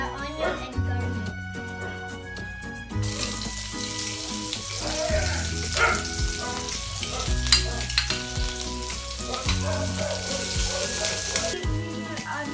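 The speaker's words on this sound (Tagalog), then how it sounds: "Once the oil is hot, let us add the onion and garlic." Onion and garlic sizzle in hot oil in a pan, with a steady hiss and occasional stirring clatter under some background music or tones.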